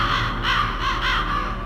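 Ravens cawing in the stealth video game Metal Gear Solid, a series of loud, rhythmic harsh caws repeating about every half second, close and clear with no speech over them.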